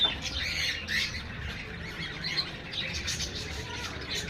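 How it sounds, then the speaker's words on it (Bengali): Many birds squawk and chirp together in an outdoor spot with flowers, a busy overlapping chorus of calls that runs steadily throughout at moderate level. "খুব সুন্দর লাগছে পাখিগুলো।"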